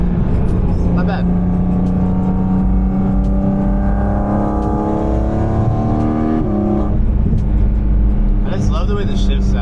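A Porsche GT4 RS with a full titanium valved exhaust revs loudly and climbs through its gears, the rising engine note dropping at each shift, heard steadily from inside the car with talking over it.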